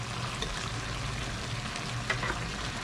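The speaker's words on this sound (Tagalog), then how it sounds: "Tapos lalagay na natin suka natin." Pork igado frying in a pan as vinegar goes in, giving a steady close sizzle with faint stirring and a few light clinks throughout, no voices.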